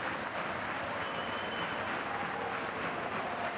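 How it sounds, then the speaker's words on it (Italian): A crowd at an Estra Pistoia versus Pesaro basketball match applauds the Pistoia team, giving steady, dense clapping from a large arena audience for the whole stretch, heard at a moderate distance. "Gli applausi anche per il quintetto pistoiese"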